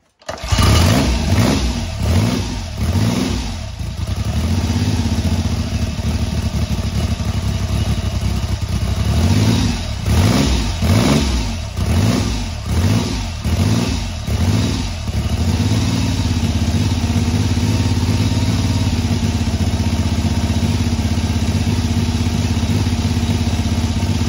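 BSA Rocket Three A75R Mk 1 triple with erratic running and low float heights, cranked and caught, then close, loud, uneven idling with rhythmic surges before it settles into a steadier running drone.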